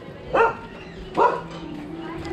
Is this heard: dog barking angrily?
yes